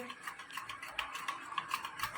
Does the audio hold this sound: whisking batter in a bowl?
yes